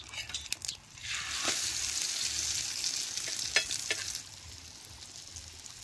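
An egg flatbread roasts on a wood-fired stove as it is flipped over. After a few soft clicks, a steady broadband sizzle of frying rises for several seconds, then drops back to a quieter crackle, with no talk.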